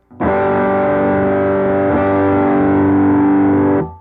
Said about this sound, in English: you're hitting all six strings with one smooth pick stroke